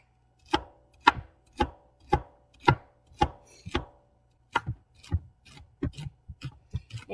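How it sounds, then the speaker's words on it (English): A knife chops through a celery stalk on a cutting board in a home kitchen, a dozen crisp, evenly spaced thunks at first, then quicker, lighter cuts, close and clear with no talk. "So we're going to cut our celery stalk."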